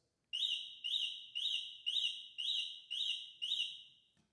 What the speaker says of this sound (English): that's the sound that would happen if somebody tried to run off with your bike and you had it locked